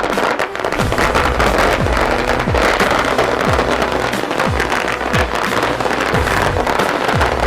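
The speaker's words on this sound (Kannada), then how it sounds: "ಕಾರ್ಯಕರ್ತರು ಪಟಾಕಿ ಸಿಡಿಸಿ ಸಂಭ್ರಮಾಚರಣೆ ಮಾಡಿದರು" Firecrackers bursting at an election victory celebration for a by-election winner, a loud, dense, continuous crackle of rapid pops and bangs with no break, with no voices standing out.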